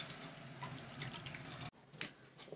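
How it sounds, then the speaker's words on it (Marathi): Khandeshi kadhi, thickened with jowar flour, bubbling at a boil in a pot on the stove: a steady, soft, wet gurgle and simmer, briefly dipping quieter before rising again. "उकळली आहे बघा कढी"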